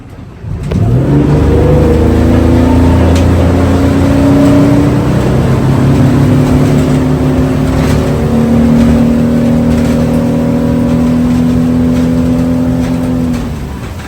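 A motor yacht engine on Lake Solina throttles up for a fast start, producing a loud, sustained close-up roar whose pitch climbs and holds for over ten seconds before easing slightly at the end.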